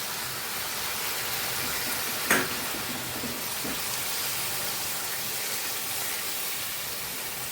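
A paste of poppy seed, ground cashew and raisin fries in a pan, giving a steady soft sizzle and hiss with a couple of brief clinks, close and moderately quiet with no voices.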